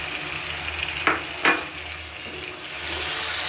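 Chicken frying in a pan with ginger, garlic and onion paste, giving a steady sizzle with two short louder bursts as ingredients are stirred, the hiss swelling slightly toward the end.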